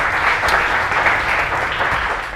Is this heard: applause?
yes